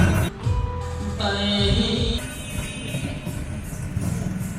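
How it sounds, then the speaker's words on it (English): A long train rumbles past steadily at a rural crossing in Vietnam at night, with rail noise and a squealing tone rising partway through, continuous for the whole stretch. "waiting for the train to pass. That's one long train."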